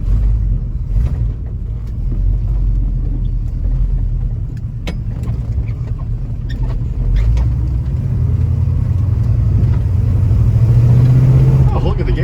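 Ford Mustang Mach 1 engine idling steadily with a low, even rumble throughout, a slight rise in pitch near the end, while people talk over it.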